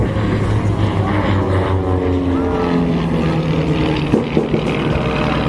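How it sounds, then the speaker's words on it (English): Steady loud droning of two RV-7 and RV-8 propeller planes flying a formation loop at an airshow, a continuous roar with a slight pitch sway as they pass overhead. "Stephen and Todd demonstrate for you a wingtip separation of less than 10 feet performing a formation loop"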